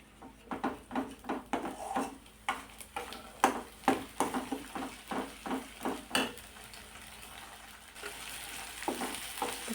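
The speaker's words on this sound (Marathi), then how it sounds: "अगदी 1-2 मिनिट मसाला परतून घ्यायचा" Spice masala sautés in a pan for a spicy brinjal curry, with repeated scraping strokes of a spoon against the pan over a soft sizzle, in a regular stirring rhythm close up.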